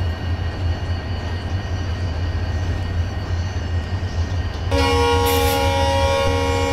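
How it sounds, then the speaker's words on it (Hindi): An Indian Railways WDG4 diesel locomotive idling with a deep rumbling engine drone during shunting in Train Simulator 2023, then its horn sounds partway through as a loud, steady multi-tone blast over the engine. "WDG4 थोड़ा भाई तुम भी हॉर्न बजाते रहो, क्योंकि शंटिंग कर रहे हो तो तुम्हारा हॉर्न बजाना बनता है थोड़ा।"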